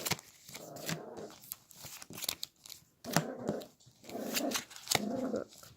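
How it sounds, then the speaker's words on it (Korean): A small dog barks repeatedly in short bursts, fairly close, with a few whimpering and growling sounds between the barks. "그 강아지 소리가 들리는 점은 양해 부탁드립니다."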